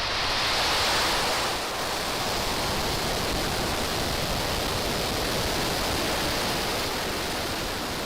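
SpaceX Falcon 9 rocket lifting off on the Starlink-8 mission, a loud, steady broadband roar that rumbles and crackles without a break, heard from a distance with no voices over it.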